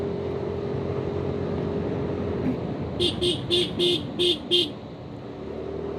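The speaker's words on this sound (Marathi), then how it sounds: "हॉर्न वाजल्याशिवाय कामं नाही होणार इकडे" A vehicle horn honks six times in quick, evenly spaced bursts over a steady engine and road rumble, on a mountain ghat road between Kedarnath and Badrinath in Uttarakhand.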